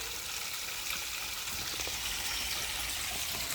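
Steady soft trickle of water from a wall-mounted fountain by a garden pond, continuous and even, with a faint outdoor hiss behind it.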